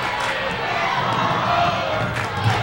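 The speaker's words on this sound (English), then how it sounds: "the crowd has that it's all over chant going here with 40 seconds to go" A packed crowd at a 1998 girls' high school basketball playoff between Sterling and Audubon chants 'it's all over' late in the game, a loud, steady roar of massed voices filling the gym.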